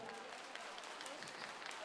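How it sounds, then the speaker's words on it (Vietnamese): Audience applause for two dancers in a dance competition finale, a steady, fairly faint wash of clapping from a crowd with no break. "Một tràng pháo tay nồng nhiệt cho hai cô gái tài năng của chúng tôi, thưa quý vị."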